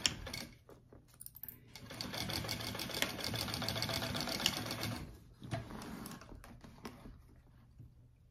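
A sewing machine basting connectors onto a hobo bag runs in a steady, rapid stitching whir for about three seconds, bracketed by short starts and handling noises.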